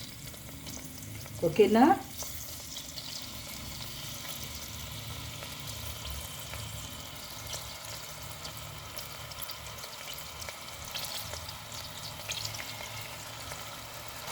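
Chicken pieces fry in hot oil for a simple kodi fry, a steady, even sizzle that runs throughout, with a short spoken question near the start.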